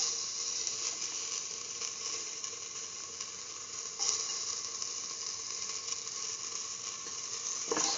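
Ginger fries in hot oil in a pan for a split mung bean and eggplant stew, giving a steady, even sizzle throughout with a couple of faint clicks and no talking.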